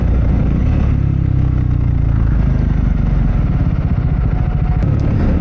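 A Triumph Scrambler 400X motorcycle engine on a test ride hums loud and close at steady revs, with continuous rumble and wind buffeting and no talk over it.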